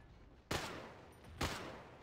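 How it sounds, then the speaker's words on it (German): Two sharp, loud gunshot bursts from an Abakan rifle in Battlefield 2 crack about a second apart, each leaving a short decaying tail in otherwise quiet surroundings. "Und zwar der Hyperfeuerstoß vom Abakan ist so schnell,"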